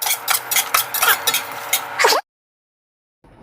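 Cumin and poppy seeds roast in a pan on low heat, giving a soft crackling sizzle with light stirring scrapes for about two seconds before a sudden cut to silence and a faint hum.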